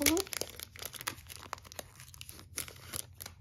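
Vellum envelopes are handled close up, giving a run of light, crisp crinkling and rustling with small sharp crackles throughout. The sound sits under intermittent soft talking.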